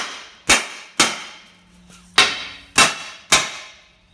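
Five sharp metallic hammer taps on a Mazda MX5 NC engine part to loosen glue, spaced irregularly about half a second apart, loud and close with brief ringing decay.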